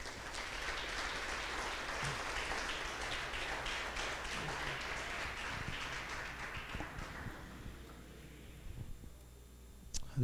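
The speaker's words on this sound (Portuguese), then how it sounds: "Aplauda o Senhor." Church congregation applauding together in a sustained, dense wash of clapping that fills the room, fading out toward the end with a few scattered claps remaining.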